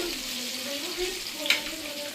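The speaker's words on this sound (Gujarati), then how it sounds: "તો લસણ નાખી દીધું. પછી લસણને થોડીક વાર પકાવવા દેવાનું છે." Garlic sizzles and fries in a pan, a steady soft crackle with a faint stir or clink midway.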